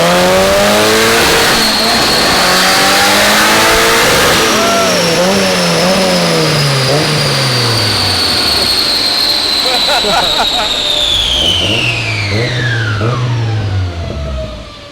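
A turbocharged project car engine revs hard on a dyno, rising to a sustained high-pitched turbo whine and roar, then winds down, revs again, and settles back. Loud and close throughout, with voices talking over it.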